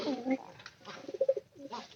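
A pigeon coos in a loft, a few short, throaty rolling calls close by, broken by quiet gaps and faint background voices.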